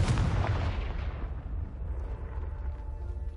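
A Confringo blast spell from Hogwarts Legacy goes off with a loud, close burst that trails into a long, fading rumble, with no voices over it.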